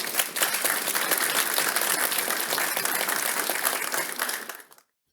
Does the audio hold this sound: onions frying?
no